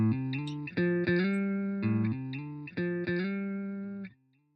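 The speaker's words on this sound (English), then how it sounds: "Rotating looper, what does that sound like?" Rotating looper audio plugin effect applied to sustained, harmonically rich tones, heard as a series of repeating looped note segments with sharp restarts, steady and loud, then fading out near the end.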